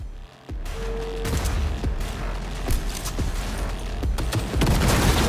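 A thrown grenade going off in Cyberpunk 2077 amid loud, sustained gunfire, with repeated sharp blasts and booming impacts packed over a few seconds and no voice over it.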